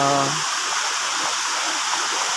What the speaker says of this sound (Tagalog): Welcome to Burayot Falls.